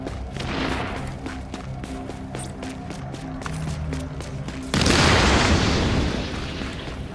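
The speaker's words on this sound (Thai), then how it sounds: "ระเบิดเลยเนี่ยมึง" A loud, broadband explosion in Tom Clancy's The Division bursts in partway through, over a busy layer of game sounds and rhythmic clatter, then lingers as a rushing roar before easing slightly.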